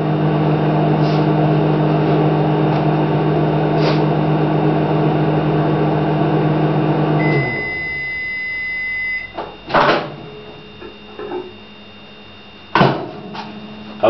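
A microwave oven boiling water runs with a steady humming drone for several seconds, then cuts off, followed by quiet clicks and a few sharp knocks nearby.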